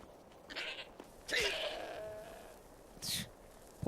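Goat in the video game Skyrim bleating several times, three short nasal cries with pauses between, fairly quiet over a faint background hum.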